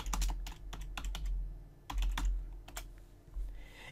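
Typing on a computer keyboard, close and quiet, with irregular clusters of crisp key clicks over a low background hum and no voices.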